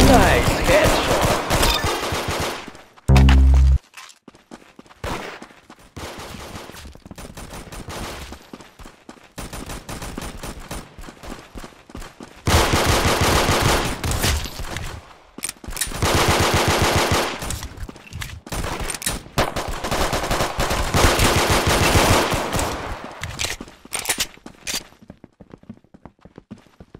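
In the shooter game Arsenal, bursts of automatic gunfire crackle in long clustered volleys, broken by a single heavy thump early on and a few quieter gaps.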